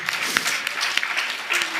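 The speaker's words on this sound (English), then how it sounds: "a round of applause for you, the audience," Audience at a Bharatanatyam arangetram gives a brief, dense burst of applause filling the auditorium, steady and loud throughout.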